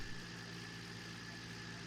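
A tractor engine idles in Farming Simulator 19, giving a faint, steady low drone with a constant hum throughout and no speech.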